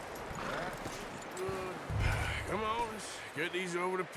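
In the Red Dead Redemption 2 video game, a horse's hooves clop unevenly and the animal gives a couple of short whinnies, mixed in with background game noise and a person talking.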